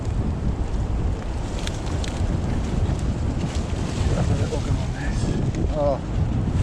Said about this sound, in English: that gust there, moving a lot of these trees